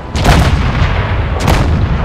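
Two loud, close tank cannon shots ring out about a second apart in the World of Tanks video game, each a heavy boom with a sharp crack and a rumbling tail.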